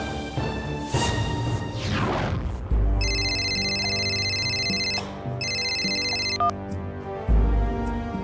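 A phone rings with a repeated electronic ringtone in two bursts, loud and close, over background music and a few dull thumps.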